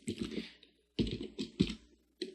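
Typing on a computer keyboard while writing Perl code, a few short clustered bursts of key clicks separated by brief pauses, close and fairly quiet with no talk.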